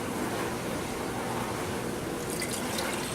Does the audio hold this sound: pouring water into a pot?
yes